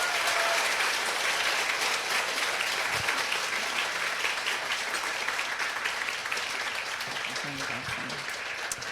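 A church congregation at a healing revival meeting gives loud, continuous applause that fills the room and fades slightly toward the end, with a voice faintly audible beneath the clapping.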